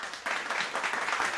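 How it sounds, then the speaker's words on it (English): A brief burst of clapping during a sports-talk show, several quick claps close to the mic that starts abruptly and runs on evenly for about a second. "I don't know why I'm clapping there"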